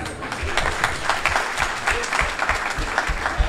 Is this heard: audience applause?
yes